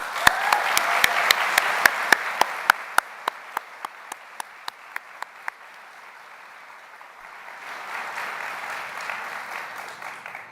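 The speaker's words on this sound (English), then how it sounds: "I'd appreciate it if everyone could please join me in giving all the friends and family here a round of applause." At a university nurses pinning ceremony, crowd applause carries sharp, evenly spaced loud claps from one nearby person that gradually fade, then the general clapping swells again toward the end.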